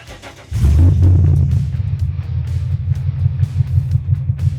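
An old rat rod car engine with a weak 11.4-volt battery cranks and catches, then settles into a loud, rough, steady low rumble of idling, close by with no talking.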